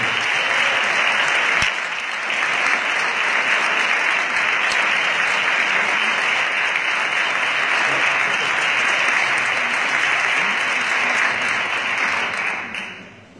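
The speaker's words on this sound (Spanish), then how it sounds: "Un fuerte aplauso para la Asociación Musical Vida Urga Bonoso." Sustained, loud audience applause for a youth music association at an award ceremony, dense and even throughout before tapering off at the end, with no talk over it.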